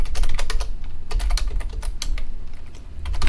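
Rapid keystrokes on a computer keyboard as JavaScript code is entered, a close, clear run of clicky taps with brief gaps over three seconds, with no voices.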